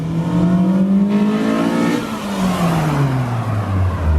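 A 2000 Honda Civic Si with a swapped B18C Type R engine revs up loudly, drops in pitch at a gear change from first to second, then climbs again before easing off.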